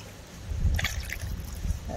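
Water splashing into a 4-kilo tub of green olives being prepared for pickling, a soft low trickle and slosh close by with a voice over it.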